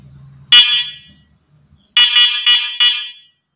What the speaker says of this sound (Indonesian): Terus ini ada klakson.